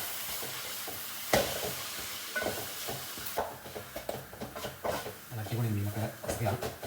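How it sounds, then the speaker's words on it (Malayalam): Fish roe (meenmutta) dropped into a pan of onion and coconut and stirred, a hiss of frying rising after a sharp clatter, with spoon scrapes and low sizzle continuing under a person talking. "ഇനിയിപ്പോൾ നമ്മൾ അതിലേക്ക് നമ്മുടെ മീൻമുട്ട ഇടാൻ പോവുകയാണ്. മീൻമുട്ട ഇട്ട് ഇളക്കി"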